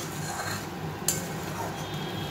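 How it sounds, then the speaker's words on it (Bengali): Poppy seed paste is stirred and fried in a pan while cooking paneer masala, with a soft continuous sizzle under the scrape of a utensil and one brief metallic clink. "পোস্ত আছে তো, পোস্তটা একটু খুব করে কষাতে হবে।"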